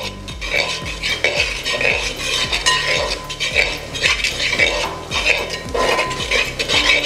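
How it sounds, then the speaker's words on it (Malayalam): Masala and onions being stirred in a pan with a spoon after garam masala goes in, giving steady repeated scraping and clinking of metal on the pan with a faint sizzle, close and busy, with no talking. "നമ്മുടെ മസാലയെല്ലാം നന്നായി ഒന്ന് നമ്മുടെ സവോളയായി മിക്സ് ചെയ്തെടുക്കണം"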